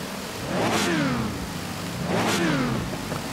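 Sim racing car engine revving on track, heard as two loud rising and falling engine sweeps, each climbing then dropping with a whine, close and steady with no talk.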